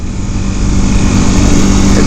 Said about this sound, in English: This is the same engine that's in the Rebel 300, and that's a single.